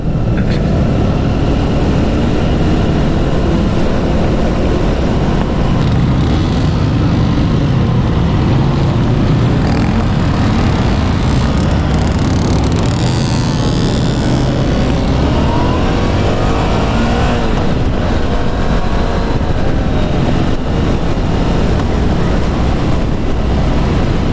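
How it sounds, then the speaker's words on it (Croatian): A long column of motorcycles rides along a road on a slight downhill at a motorcycle gathering in Bjelovar, a loud continuous roar of engines and wind rushing past throughout. "Dokle god vidim ispred sebe, dokle god cesta seže je kolona motora."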